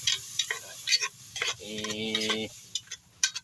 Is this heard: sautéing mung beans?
yes